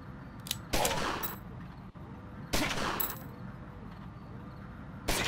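Gunfire in the gangster game Omerta - City of Gangsters comes in three loud bursts of rapid shots, each with a sharp crack that rings out briefly over a steady rumbling game backdrop.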